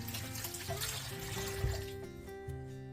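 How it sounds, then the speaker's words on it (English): Tap water runs and splashes as hands are rinsed beneath it, a short, fairly quiet burst of trickling with a little clatter of movement. "I'm going to wash my hands, rinse my hands here for a second"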